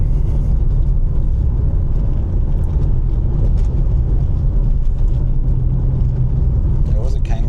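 A car engine drones steadily while driving through hilly roads in a driving video game, a constant loud rumble with someone talking over it.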